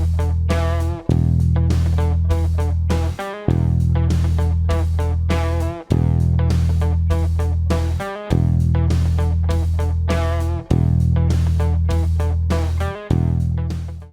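Bass guitar played in a beginner lesson along with a backing track: deep, sustained notes struck about every two seconds, each ringing and slowly fading before the next, forming a steady repeating pattern.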